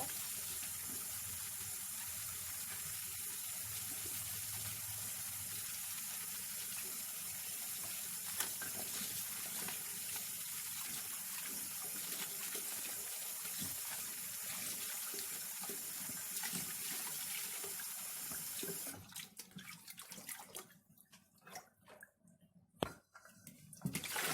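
Okra and eggplant are rinsed under a running kitchen tap, a steady close stream of water splashing for most of the clip, then breaking into intermittent gushes and drips near the end.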